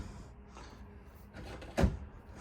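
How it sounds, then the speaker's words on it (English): Soft-close drawers in an Ember E-Series 21FBE travel trailer slide shut in a quiet interior, with a soft rolling glide followed by one muffled thump near the end. "3 drawers. These are going to be the soft close variety as well."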